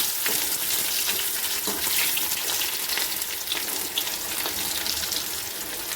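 Stuffed bitter gourd frying in hot oil in a home kitchen gives off a constant close crackling sizzle with small bursts of spatter, and no voices are heard.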